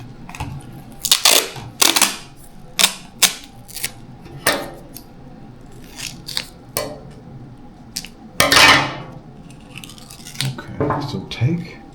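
Tape is pulled and pressed over the top of a homemade soda rocket, giving close, sharp ripping and crackling bursts with pauses between them, mixed with occasional talking.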